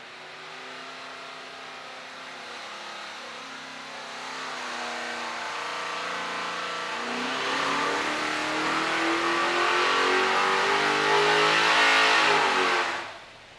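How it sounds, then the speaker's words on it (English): A high-horsepower engine on a dyno, run with nitrous, roaring loud and close as it climbs steadily through the revs in one long sweeping pull before cutting off sharply at the end. "We finally got it on the dyno with nitrous."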